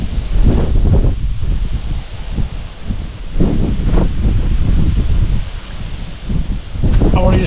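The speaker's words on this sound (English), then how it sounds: "the wind's that strong. It must be blowing 40 now." Strong wind roars across a microphone on the East Coast sea shore during UK sea fishing, a constant loud buffeting with gusts rising and falling throughout, no waves clearly distinct beneath it.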